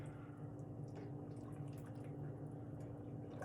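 Parsley being stirred into a pot of chicken noodle soup, giving a steady soft liquid sloshing and dripping texture at low level throughout, with no talking.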